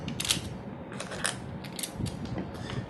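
Steel washers and bolts being fitted onto a 6P 7S BatteryBlocs battery pack, a continuous close run of small metallic clinks, rattles and ratchet-like clicks with no talking.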